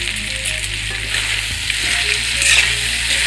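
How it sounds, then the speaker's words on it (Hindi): Pasta seasoned with pasta masala frying in a pan over a low flame, a steady close sizzle with soft stirring scrapes and a low hum running underneath throughout. "धीमे आंच में 5 मिनट तक इसको भूनेंगे।"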